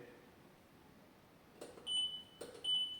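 Two short electronic beep bursts, high and tonal, from a ground scanner detector sound in quick succession after a quiet stretch, fairly close and clear.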